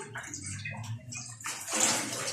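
A cooking pot is lowered into water in a kitchen sink while washing up, giving a burst of sloshing and splashing that grows louder toward the end.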